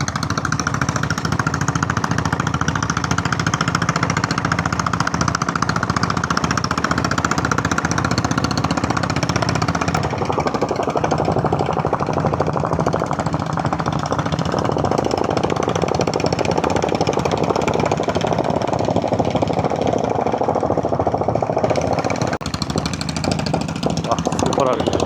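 Diesel Bullet motorcycle engine with a steady, loud thumping chug while gearing down to climb the Yercaud hill road, with someone talking over it throughout.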